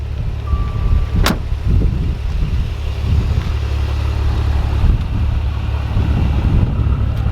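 Maserati 6-cylinder twin turbo engine and exhaust with chrome tips, a steady low rumble heard close up for several seconds, with wind noise on the microphone and a brief sharp click early on.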